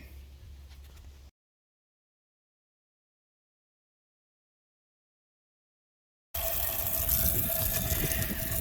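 Water gushes loudly and steadily into a pig trough, cutting off into silence for several seconds before the rushing flow resumes, close and strong.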